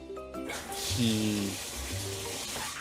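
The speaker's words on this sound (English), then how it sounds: "I step into the shower and get the water running" Shower water running in a steady broadband hiss, close and continuous, with a few faint tonal sounds mixed in near the start.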